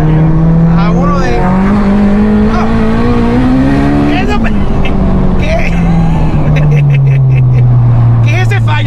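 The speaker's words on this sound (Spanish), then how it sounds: "¿Qué es ese fallo que la goma chilla?" A 600 hp turbocharged Honda Civic with a K20 engine droning loudly and steadily while its tires squeal in long sustained chirps, with people talking over the engine throughout.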